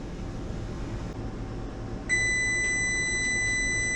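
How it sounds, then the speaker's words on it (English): A kitchen oven timer beeps in a steady, loud electronic tone that starts partway through and holds on continuously over a low background hum. "Timer's going on."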